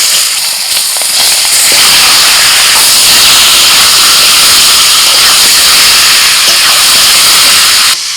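Chicken pieces hit hot mustard oil seasoned with salt and turmeric and sizzle loudly, a dense continuous hiss and crackle that starts abruptly and holds steady throughout.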